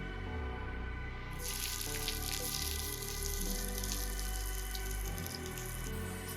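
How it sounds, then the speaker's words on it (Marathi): Finely chopped onion frying in a pan of hot oil while being caramelised to light brown, a steady close hiss and crackle that swells and thickens partway through, with no talking. "मी हा कांदा कॅरेमलाइज म्हणजेच लाईट ब्राऊन कलरचा करून घेत आहे"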